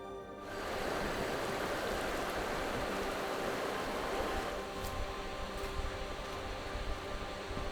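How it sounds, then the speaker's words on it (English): The swollen Semois River in a Belgian border town rushes wild and fast, a loud, steady broadband roar of turbulent water that stays close and continuous throughout, with no voices over it. "As you can see behind me, the Semois River, it's pretty wild right now"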